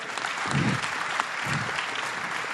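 An audience at an international forum on African development applauds its morning panelists, a steady wash of clapping at moderate volume lasting the whole short stretch.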